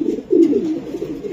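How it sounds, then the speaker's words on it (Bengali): A Mili pigeon, a racing breed, coos once in a low, soft, close rolling call lasting about a second, alone with no talk. "এটা মিলি কবুতর ভাই, এটা মিলি কবুতর"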